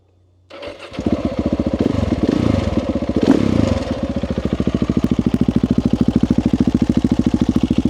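A KTM 690 SMCR single-cylinder motorcycle with a Tecmo exhaust starts up after a short quiet moment, revs loudly once and then settles into a close, steady, lumpy idle with regular firing pulses.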